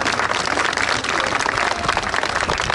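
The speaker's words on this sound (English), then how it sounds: "Give these young people a round of applause." Audience applause at a Polish Independence Day parade celebration in Panna Maria, Texas: dense, steady clapping from a crowd, loud and sustained for the whole stretch.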